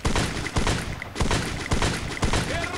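Rapid bursts of automatic gunfire in a Free Fire shooter match, loud close shots in quick repeated volleys of several rounds each, with no talk over them.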